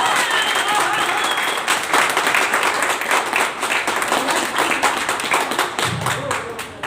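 An audience at a meeting claps, a dense continuous patter of many hands that stays fairly loud for several seconds, with a speaker's voice briefly underneath.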